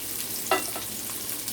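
Onion hitting a hot pan for a cabbage and beef stir fry, a short steady sizzle with a brief louder burst as it goes in, close and alone.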